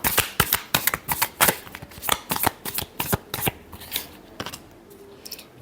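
Tarot cards are shuffled by hand in a quick run of about twenty crisp riffling snaps, close and fairly loud, thinning out toward the end with no talk over them.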